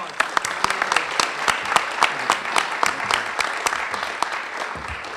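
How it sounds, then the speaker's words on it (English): A crowd applauds steadily at a congressional veterans commendation ceremony, sharp claps layered into a continuous ovation that holds at an even level throughout. "Let's give him a big round of applause."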